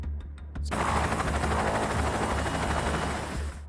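A few sharp clicks, then the loud, steady chopping roar of a military helicopter close by, its rotor pulsing rapidly throughout.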